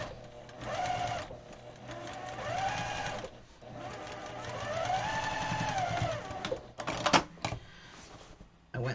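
Quilting stitches on a pillow come from a sewing machine in rapid rattling bursts, starting and stopping, with a voice speaking over the machine.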